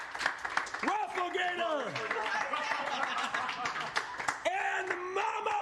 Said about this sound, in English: keep the round of applause going for the wonderful 100 Thieves production staff who put on this event